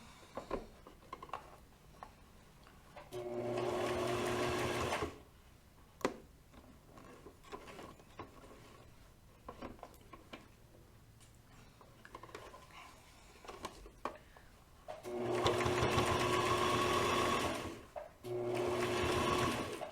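A sewing machine stitches an owl purse kit in two steady bursts of rapid whirring, each a couple of seconds long, with quiet handling clicks and rustles between them.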